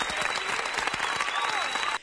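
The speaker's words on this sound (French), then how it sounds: "donc j'applaudis." A brief burst of applause from a crowd, steady clapping that stops abruptly.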